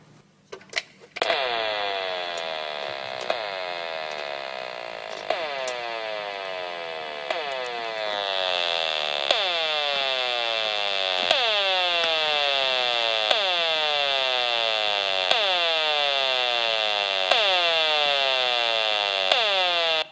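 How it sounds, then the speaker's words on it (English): A harsh electronic chirping from a Gigahertz HF35C microwave meter pulses in a steady rapid rhythm, each burst sweeping downward, loud and continuous over a constant high buzz. "what you just heard was my gigahertz HF35C microwave meter showing 1 pulse of microwave radiation."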